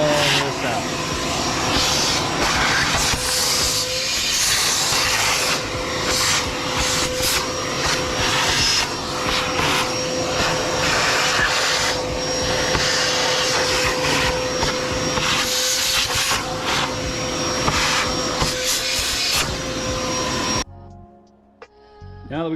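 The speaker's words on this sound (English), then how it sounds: "now we're gonna go ahead and shop vac that out of there" A shop vac roars steadily and close while sucking oil out of an Audi Q7 oil filter housing, a loud continuous whine lasting about twenty seconds before cutting off.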